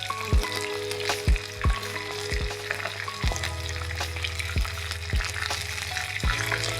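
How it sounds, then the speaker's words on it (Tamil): Soya chunks 65 deep frying in hot oil give a steady, close sizzle, with a run of sharp knocks and scrapes from a utensil at uneven intervals. "நம்ம 65 நல்லா எண்ணெயில் கொழுன்னு பொரிஞ்சிட்டு இருக்கு"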